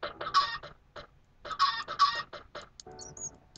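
Several short bursts of Minecraft chicken clucking, close and fairly clear, in quick clusters with brief pauses between, followed by a softer electronic tone.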